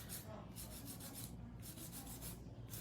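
A hand file rasps back and forth on an acrylic stiletto nail, close and steady, with quick rhythmic strokes broken by a couple of brief pauses.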